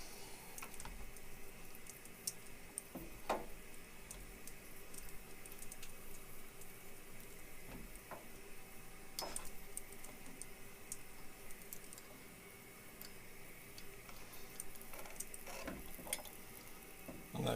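A hand tap turning threads into an aluminium channel for a C-frame riveter on a Zenith 701 build, faint, scattered ratcheting clicks and ticks over a quiet hum.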